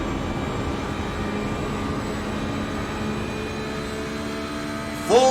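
GT3 race car at Watkins Glen running at full throttle up the hill and shifting into sixth gear, a steady, loud engine roar with a sharp rise in pitch right at the end.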